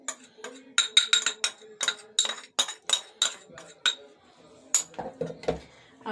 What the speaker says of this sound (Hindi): अब हम अच्छे तरीके से इसको मिक्स कर देते हैं